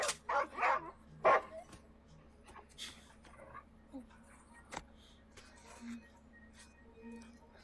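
In the film Prey, a dog gives a few short barks and yips early on, fairly close, then goes quiet with faint rustles and sparse sounds.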